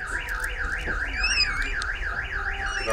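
A car alarm goes off outdoors, sounding a continuous warbling siren that rises and falls in a regular cycle, moderately loud and heard alone.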